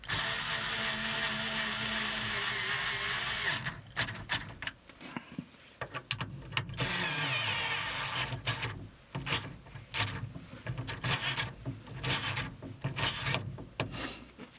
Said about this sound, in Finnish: Lidlin akkukäyttöinen USB-C ladattava ruuvin väännin.